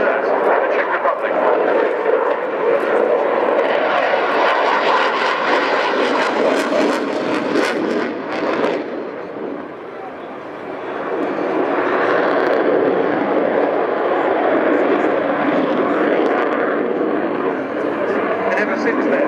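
A Czech Saab Gripen fighter jet roars past at the Royal International Air Tattoo, its loud, steady engine rumble holding throughout with a brief dip midway, while a commentator talks over a public address system.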